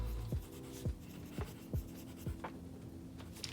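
Pen writing notes in a kiln log beside an old Cress kiln during a bisque firing, with a handful of soft scratching strokes over a steady low hum.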